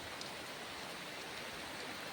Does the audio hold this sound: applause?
no